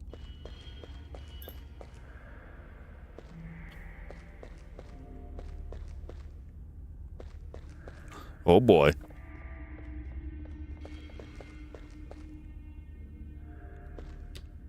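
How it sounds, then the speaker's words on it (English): Steady soft footsteps patter through a pixel-art horror game, faint and even under a low ambient drone, broken midway by a brief loud burst; a voice speaks once briefly. "Did you hear footsteps? I heard footsteps."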